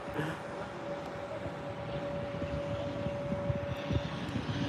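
An ATR 72-600 turboprop airliner from Dublin at Birmingham airport gives a steady, broad engine roar with a faint constant whine, heard from a distance and unbroken throughout.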